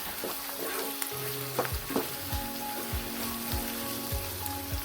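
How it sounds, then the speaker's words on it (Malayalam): Capsicum, onion and green chillies stir-fried for chilli chicken: a steady, dense sizzle with repeated scraping stirs of a spatula in the pan, close and continuous, no voices. "പച്ചമുളകും കൂടെ നമ്മൾ ഇട്ട് കൊടുത്തു, നന്നായി ഒന്ന് മിക്സ് ചെയ്യുന്നു."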